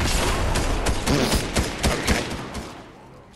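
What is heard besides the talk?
snowball launcher firing in Fortnite video game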